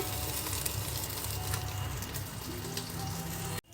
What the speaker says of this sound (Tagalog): aking piniprito muna ang talong